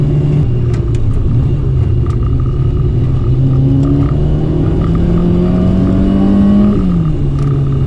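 Peugeot 106 Rallye engine pulling hard under acceleration, a loud steady in-cabin drone with rising engine tone through the gear, continuous rumble with no talk over it.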